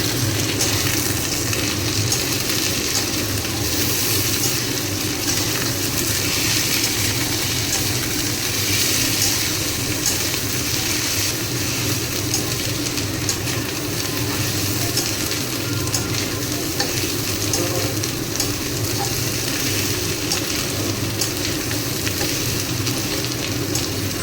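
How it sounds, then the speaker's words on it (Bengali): Onions and ginger-garlic paste frying in a pan for an egg curry, a loud, continuous sizzle that stays even for the whole stretch, with faint stirring and no voices. "পেঁয়াজটা ভাজা হয়ে গেলে এর মধ্যে দিয়ে দেব আদা রসুনের পেস্টটা। আদা রসুনের কাঁচা গন্ধটা যাওয়া পর্যন্ত ভেজে নেব।"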